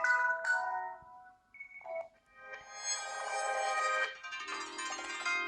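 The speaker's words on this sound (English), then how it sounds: "Let it test the speakers by turning the phone ringtones on." Smartphone ringtones from an Honor 4X or Moto G2 played at maximum volume: a short melodic chime, a brief pause, then a loud, bright sustained electronic melody with layered tones, close and alone.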